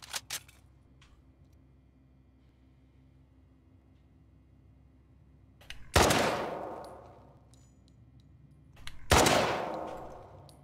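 Gunfire in The Last of Us Part II: two loud, sharp shots several seconds apart, each with a long decaying tail, over a quiet background hum.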